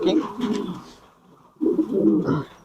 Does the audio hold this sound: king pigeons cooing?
yes